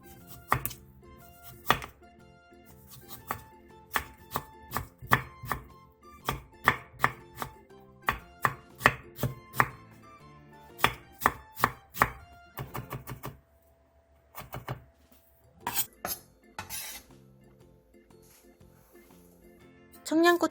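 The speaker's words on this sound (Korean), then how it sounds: "통단무지 3분의 1개도 비슷한 크기로 다져주세요." A knife chops whole pickled radish (danmuji) on a cutting board in a series of sharp, rhythmic close-up thunks with brief pauses between bursts, recorded quietly while making Korean side dishes.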